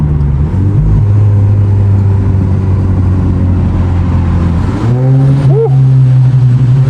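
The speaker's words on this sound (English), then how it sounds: "this car doesn't sound too bad" A 1.4-litre car pulls hard in third gear on a South African road, its engine note droning loud and close, then rising in pitch as the gear changes near the end.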